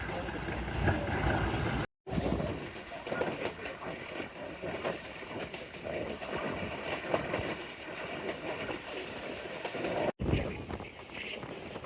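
The Chenab Express rolls to an emergency brake stop with heavy rumbling and clattering wagon noise, broken by two brief cuts, while someone talks over it.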